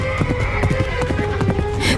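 Hoofbeats of a horse as a rider arrives in an animated Hindi story, a steady clip-clop rhythm that runs loud and continuous over background music, with no speech.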